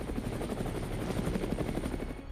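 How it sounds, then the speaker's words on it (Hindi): An Apache attack helicopter flying over Ladakh near the LAC gives a steady, loud rotor chop, with rapid even thumps that persist without pause. "अपाचे एक लड़ाकू हेलीकॉप्टर है"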